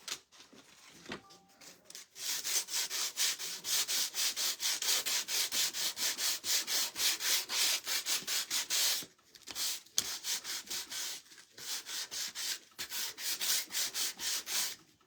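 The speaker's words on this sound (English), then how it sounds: "I grabbed a whole bunch of these sandpaper pads. Well, that one's really rough." Rough sandpaper pad rubbed steadily back and forth, a loud close rasping scrub in quick repeated strokes with a couple of short pauses.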